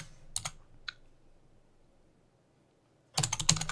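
Fingers type a folder name on a computer keyboard: a few scattered clicks first, a quiet pause, then a fast, loud burst of clattering keystrokes close to the mic.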